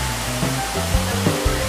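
A large waterfall about 100 feet high in the Smoky Mountains, tumbling into a boulder-strewn riverbed, heard up close as a loud, steady, broadband roar with a few low thumps, and no voices.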